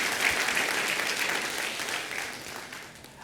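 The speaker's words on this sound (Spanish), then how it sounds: "Y entonces damos una ofrenda de palmas todos juntos en el nombre del Señor." A church congregation claps together in a steady, dense wash of applause that fades slightly toward the end, with a faint voice underneath.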